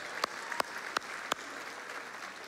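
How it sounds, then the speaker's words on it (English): A handful of separate, crisp handclaps ring out at a steady pace in a church congregation at a New Year service, then fade into quiet room tone. "And yeah, you can clap."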